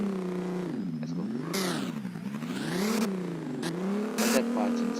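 A Nissan car engine in the Roblox Driving Empire game revs repeatedly, its pitch rising and falling in waves over several seconds, loud and close with no talking.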